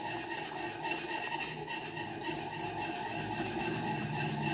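A spoon or spatula stirs besan into zunka pithla in a pan, a steady close scraping and rubbing that runs continuously with no pauses and no voices.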